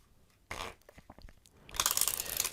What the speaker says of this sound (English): And I'll give the deck a shuffle.